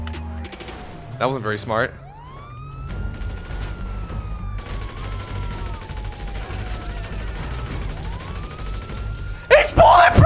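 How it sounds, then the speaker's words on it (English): Rapid bursts of gunfire crackle during a GTA 5 roleplay shootout with police, sharp shots scattered across the moment and a louder volley at the end, mixed with sirens and game sounds, while someone speaks briefly. "They're shooting us. We're gonna have to shoot them."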